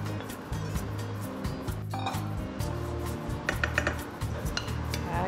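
Cooked pasta being tossed with spinach leaves in a pan, with steady rhythmic scraping and clinking of utensil against metal, broken by brief pauses and a few sharper clinks; no talking.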